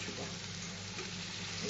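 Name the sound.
prawns frying in pan with pumpkin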